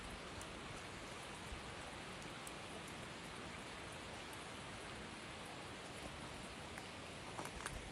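Steady rain falls on a rainy day near Zeballos on the coast, a faint, even patter and hiss with scattered drops that continues unbroken with no voices.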